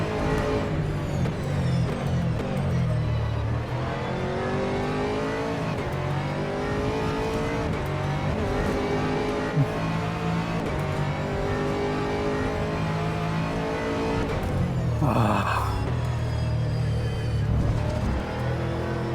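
rFactor 2 race car engine screaming and revving steadily at high pitch, loud and close, with gear shifts and brief tire noise through the run.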